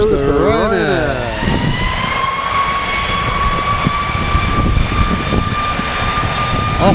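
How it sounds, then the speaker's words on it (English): A Ryanair jet airliner takes off at Manchester, a loud sustained engine roar with a rising whine that settles into a steady tone, heard close and continuous, with brief talk early on. "Here goes the Ryanair."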